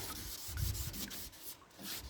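Wet rubbing of primer on a VW Beetle trailer body, a quiet close scuffing and rubbing with soft repeated strokes and no voices.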